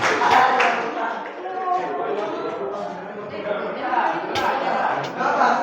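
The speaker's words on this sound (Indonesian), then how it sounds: "Oke, tepuk tangan untuk kita." Classroom group applauding together, a sustained burst of many hands clapping at close range, with voices chattering underneath.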